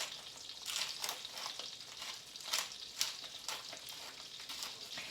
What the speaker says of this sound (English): you're toasting, you're just kind of opening up the flavor of your black pepper by doing this.